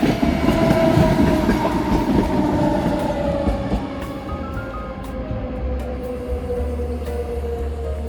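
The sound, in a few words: train passing along railway line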